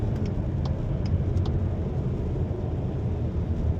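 A Skoda Octavia 2.0 diesel accelerates on a motorway, its engine and road noise forming a steady low rumble heard from inside the cabin, with no talk.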